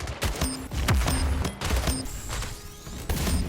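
Weapons fire in the sci-fi shooter video game Splitgate comes as repeated sharp bursts of shots with metallic tonal pings and short ringing tails. It is loud and close, with brief gaps between volleys.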